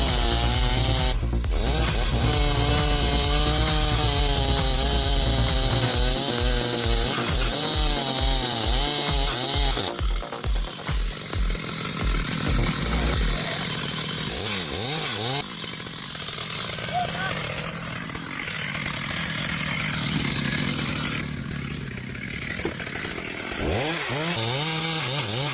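A chainsaw cuts wood with a loud, revving whine that rises and falls in pitch, bursts of engine roar and bogging as it bites in, continuous throughout.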